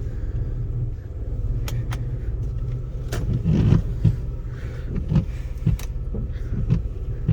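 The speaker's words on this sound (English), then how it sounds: "that little noise, if you guys hear it, it's normally my car when it's cold" A cold Honda Element engine runs at idle, a steady low rumble with scattered small ticks and clicks on top, heard close and continuous with no talking.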